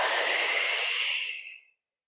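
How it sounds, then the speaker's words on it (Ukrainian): A single long breath out, loud and close at first, then fading gradually to silence during a calming breathing exercise. "Робимо дих. і видих."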